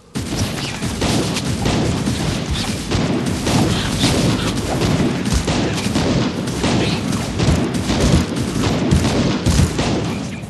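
Enemies firing guns nonstop in the Van Helsing video game, a loud dense barrage of rapid shots and booming impacts that continues without pause.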